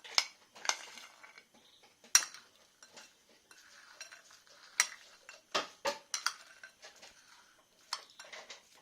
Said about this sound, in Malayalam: ഈ ചിക്കൻ നമുക്ക് ഇതിലിട്ട് കൊടുക്കാം.